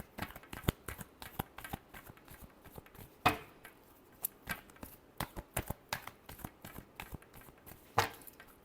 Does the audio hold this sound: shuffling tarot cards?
yes